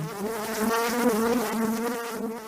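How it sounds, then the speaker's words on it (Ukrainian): A bumblebee flying into a room, used as an audio-tale sound effect: a steady, close, loud droning buzz with a rich harmonic hum that wavers slightly in pitch throughout, with no voices. "До кімнати залетів вже знайомий джміль товстун в кителі з генеральськими погонами."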